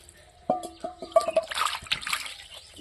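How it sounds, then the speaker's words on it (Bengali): Pigeon meat is rinsed with water in a kitchen, giving close splashes, sloshing and trickling that follow a brief voice-like tone. "জল দাও একটু, জল দিয়ে ধুয়ে নিব"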